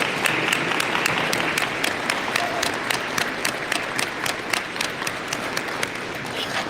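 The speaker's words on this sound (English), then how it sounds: "I'm going to ask for a round of applause for these amazing students" A room of about 200 people applauds students at a police badge ceremony, a loud, even wash of many hands that runs steadily without letting up, joined near the end by a few sharper, closer claps.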